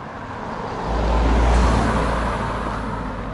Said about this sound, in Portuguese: Mais um carro de Gibraltar.